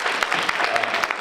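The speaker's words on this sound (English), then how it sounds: "Let's give Reverend Moore another round of applause" A conference audience at a Women of Color Entrepreneur event claps in a brief, dense burst of applause, loud and close with no voices over it.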